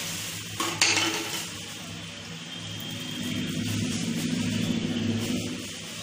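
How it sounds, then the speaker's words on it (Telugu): Okra being hand-mixed with rice flour and gram flour for crispy pakodi, a continuous close scraping and rustling of the batter against the bowl with a few brief clinks, steady and moderately loud with no talking. "బియ్యం పిండి శనగపిండి వేసుకొని మంచిగా కలుపుకోవాలండి."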